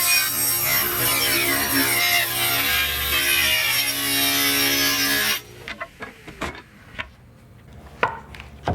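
A power saw cuts through a wood piece for a concrete-mold 3D longboard press, a loud sustained whine and rasp for about five seconds, then stops, followed by scattered knocks and handling clatter.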